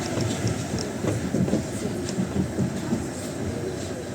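A Paris Metro Line 6 train rumbles along with steady rolling noise and faint rhythmic clatter, heard from inside with a low murmur of voices.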